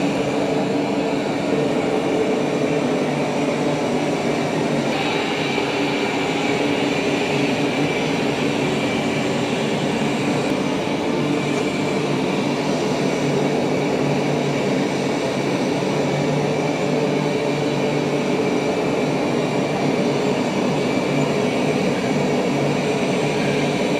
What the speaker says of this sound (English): Now, the Roborock is louder when it's vacuuming.